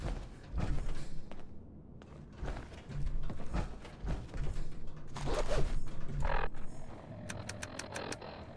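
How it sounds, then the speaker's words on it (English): Mechanical creaks and squeaks from a truck in the video game Fallout 76, rising and falling in irregular bursts over a busy game soundscape, with sharp high ticking near the end. "What kind of truck goes squeak?"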